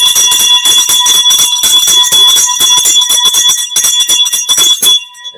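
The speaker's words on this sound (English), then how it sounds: "Ring the bell for Angel." Rapid, continuous bell ringing, loud and bright with a ringing metallic tone, struck repeatedly in fast succession before stopping abruptly.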